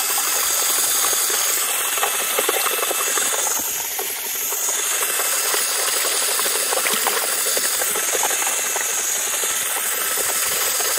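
A drill-powered homemade cement mixer mixes cement and sand with a steady, loud, hissing whir and a gritty rattling churn that runs unbroken, dipping briefly midway.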